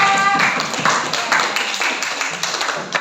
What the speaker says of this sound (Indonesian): tepuk tangan buat Arsa